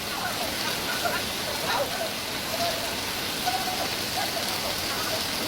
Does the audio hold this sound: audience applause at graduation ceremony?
no